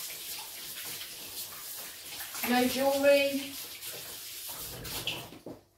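Warm water runs from a tap for hand washing in a kitchen while baking scones, a soft splashing flow under a nearby speaking voice that briefly swells louder as hands move under the stream.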